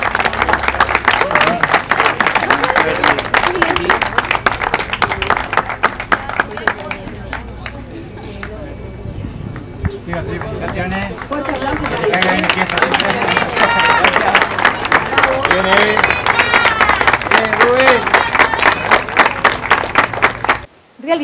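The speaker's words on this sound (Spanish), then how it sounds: "Cuarto aplauso." A crowd applauds at an awards ceremony for an 8K running race in a small town, with dense clapping and a brief lull midway, chatter and an announcer's voice running over it.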